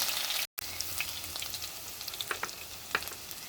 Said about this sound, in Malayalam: ഇനി ഇഞ്ചി വെളുത്തുള്ളിയും പേസ്റ്റ് വെച്ച് കൊടുക്കാം.